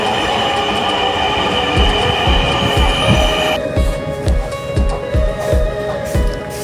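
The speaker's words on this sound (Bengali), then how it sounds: "সরাসরি দেখা গেল মেট্রো রেল। এই প্রথম দেখলাম।" A metro rail train pulling into a station: a loud, close rumble with rhythmic wheel clacks over rail joints and a high sustained squeal that cuts off partway as the train slows.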